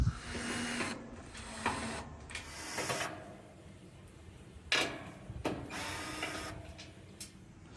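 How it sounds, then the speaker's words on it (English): Four screws are backed out of the top panel of a Lennox outdoor AC unit, giving faint, intermittent mechanical ratcheting and clicking bursts with brief pauses between them and no talking. "There are 4 screws that I'm gonna remove and then put this aside."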